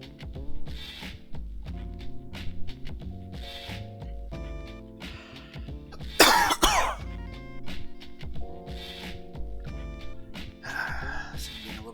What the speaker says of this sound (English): Getting a little bit of cough again.